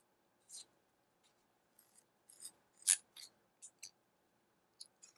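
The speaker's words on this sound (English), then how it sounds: "Then we're going to unscrew this." An Olight Baton4 flashlight is unscrewed by hand to reach its battery, producing a sparse series of faint, close, dry scraping ticks from the threads turning, with no talking.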